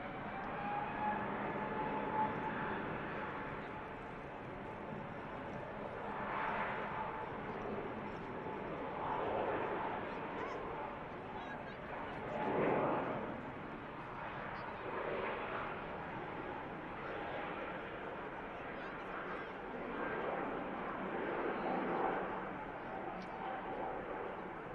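Airliner engines spooling up for takeoff at Manchester Airport, a low, distant rumble that swells in several broad surges, with a voice talking over it.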